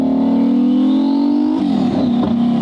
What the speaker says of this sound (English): That's just a simple first to second shift.